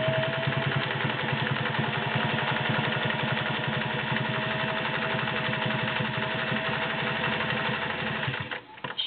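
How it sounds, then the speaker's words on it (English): A vintage Singer Slant-O-Matic 403A sewing machine runs steadily, sewing a zigzag stitch with a close, even mechanical whir and rapid needle clatter for most of the clip before slowing to a stop near the end. "But I'm going to sew with the machine so you can see that she's ready to go."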